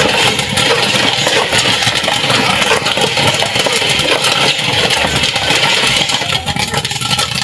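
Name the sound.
popcorn popping in a manual popcorn machine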